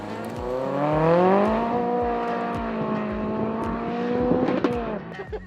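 A single car makes a timed thrash pass down a runway, its engine revving in long, rising harmonic sweeps and holding a high, strained note throughout, loud and close, with brief tire noise near the end.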